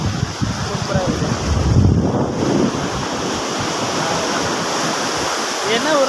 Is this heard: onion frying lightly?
no